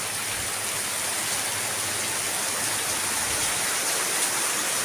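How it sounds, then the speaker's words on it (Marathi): Heavy rain pours onto potted plants outside a gallery, making a dense, unbroken wash of noise that stays steady and loud throughout with no voices. "किती पाऊस लागला आहे"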